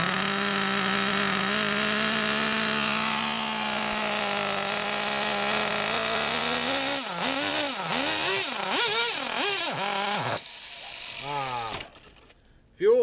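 An old engine kept in a basement, cold-started and warming up with a steady, loud idle that swings into uneven revving surges before dropping off and briefly catching again.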